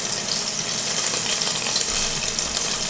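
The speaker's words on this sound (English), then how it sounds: "We can see our butter is already starting to sizzle." Butter sizzling in a pan as it heads toward browning, a loud continuous crackling hiss that stays steady throughout with no talking over it.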